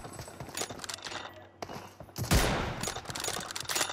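PUBG Mobile gunfire crackles in loud, rapid bursts of shots, with one especially heavy blast midway, under faint background commentary.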